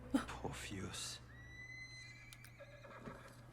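A horse neighs in a TV scene, a loud shrill whinny near the start with hoof clops and chatter, then quieter whistling tones follow.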